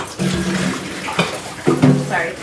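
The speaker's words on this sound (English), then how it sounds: "Sorry, I just spilled my water." Water spilling from a jar indoors, a close splashing gush with bursts of pouring mixed under a voice talking at the same moment.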